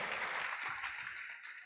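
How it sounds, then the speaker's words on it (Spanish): A church congregation applauds during a Spanish-language service, a faint but continuous wash of clapping that tapers off slightly toward the end. "dele fuerte el aplauso si usted lo cree"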